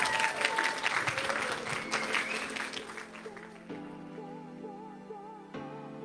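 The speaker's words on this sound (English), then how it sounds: "Please give a round of applause one more time for our models." Audience applause at an evening fashion show for the models, a dense broadband clapping wash in the first half that thins out and fades while music-like tones continue underneath.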